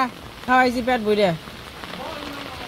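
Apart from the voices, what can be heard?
rain falling in a Bangladeshi village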